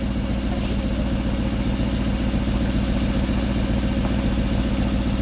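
A BMW 740i engine idles at a steady, even rumble with a fine rhythmic throb, loud and close, unchanging for the whole stretch with no revving or voices.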